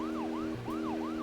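A wailing car siren from the video game Deadly Premonition, sounding while the car boosts, sweeps up and down in a steady loud cycle over a constant engine drone, alone without talk.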